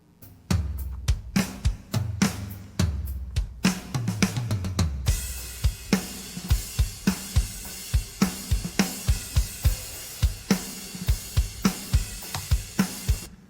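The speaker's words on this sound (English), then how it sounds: "let you check out the drums as the mix is right now with no parallel compression" A rock drum kit mix heard dry with no parallel compression, kick, snare and cymbal hits in a steady groove, a sparser fill-like opening giving way to a dense, loud beat with regular snare accents and no talking.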